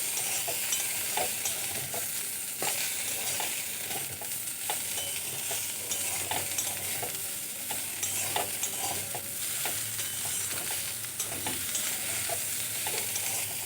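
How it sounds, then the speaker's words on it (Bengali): Neem leaves and eggplant fry in a pan as a hot-weather Bengali dish, a steady close sizzle running throughout with repeated scraping stirs of the spatula, no voices. "তাহলেই রেডি হয়ে যাবে নিম পাতা ভাজা"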